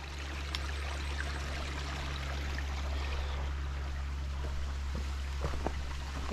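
A mountain stream flows steadily beside a hiking trail in the White Mountains, making a faint, continuous rushing and trickling with no one speaking.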